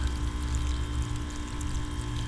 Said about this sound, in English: Let that water run out.